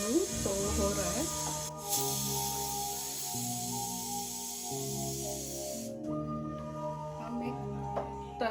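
A pressure cooker releases steam after its whistles while cooking chicken, a sustained loud hiss that cuts off abruptly, with tonal music playing underneath throughout.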